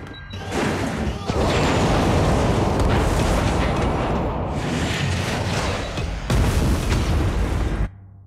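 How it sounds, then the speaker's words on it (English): A friendly nuke detonates in a multiplayer hardpoint match of a shooter game, giving a loud, sustained roaring explosion that rumbles on for several seconds, swells again near the end, and then cuts off abruptly. "Warning, friendly nuke has been launched."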